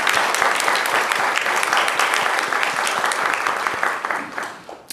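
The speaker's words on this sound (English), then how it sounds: "We can clap now." Audience applause at a graduation ceremony, a loud sustained wash of many hands clapping that tapers off in the final second.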